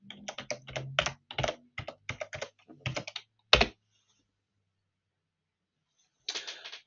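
Quick bursts of clicking keystrokes as a password is typed on a computer keyboard, close and distinct. A pause follows, then a short final flurry of keys.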